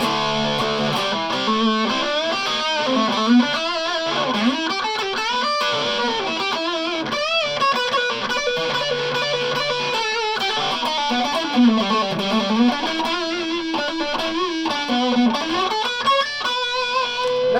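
A Les Paul electric guitar plays through a distortion effect, a continuous run of overdriven notes and bends with sustained harmonics, close and loud with no talking.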